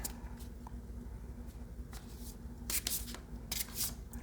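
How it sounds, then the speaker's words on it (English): Soft rustling and brushing of a thin deck of tarot cards being shuffled close by, with a few sharper riffling bursts near the end. "it's interesting to shuffle a thin deck, so to speak"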